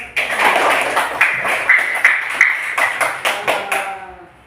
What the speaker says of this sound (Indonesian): tepuk semangat dulu. Tepuk 1, tepuk 2, tepuk 3, tepuk 4.